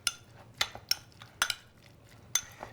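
Fresh salmon tartare being mixed with olive oil and chive in a bowl: a handful of sharp utensil clinks against the dish at irregular intervals over soft, faint stirring, with no talk.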